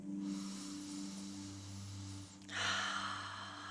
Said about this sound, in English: One more, nice deep breath.